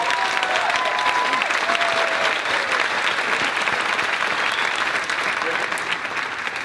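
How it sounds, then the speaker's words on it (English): Graduation ceremony crowd applauding the senior class of 2018, a broad, continuous roar of clapping filling the hall at steady loudness, with a few faint voices mixed in. "Let's please give them another round of applause."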